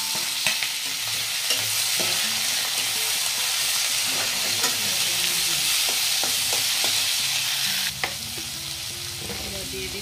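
Bitter gourd, potato, onion and two green chilies sizzle and crackle steadily in a pan with cumin, close and continuous, with occasional sharp stirring clicks and scrapes and no talking.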